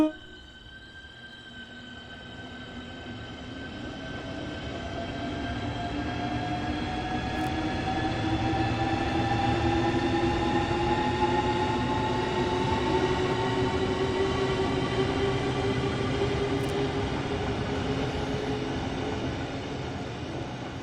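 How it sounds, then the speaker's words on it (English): Electric train traction motors in Train Sim World 3 running on third-rail power, a steady rumbling drone with several tonal whines that slowly climb in pitch as the train gathers speed, sustained and alone without talk. "I heard all the motor sounds"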